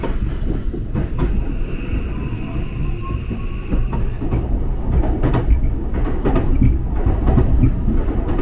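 A Japanese train pulls into Wakayama station with a loud, steady rumble of wheels on rails, faint clicking from the track joints and a thin squeal of wheels that holds throughout.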